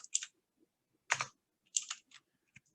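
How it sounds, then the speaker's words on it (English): Typing a name on a computer keyboard produces a few sparse, quiet key clicks in short clusters separated by brief silences. "Okay, let me type my name."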